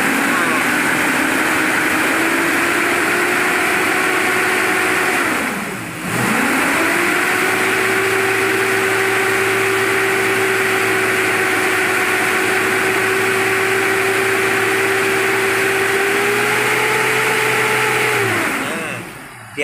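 A Suzuki Jimny Katana engine with an overheating problem runs loudly up close, held at a steady raised rev with one brief dip near the start, then drops back toward idle at the end.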